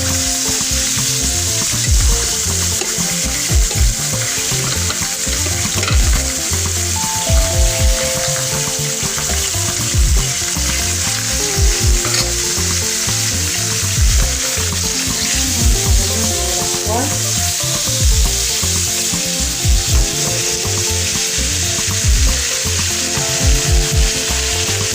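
Potatoes fry in melted butter, giving a loud, continuous crackling sizzle with occasional stirring scrapes throughout, close and steady, with no talking.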